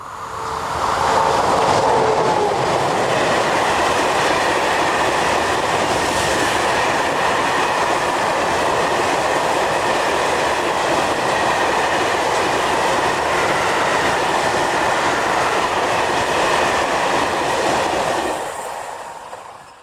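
A French class 16500 locomotive hauls an iron ore train past at close range, a loud, steady rumble of rolling wagons with faint clickety-clack that holds for nearly twenty seconds, then cuts off abruptly.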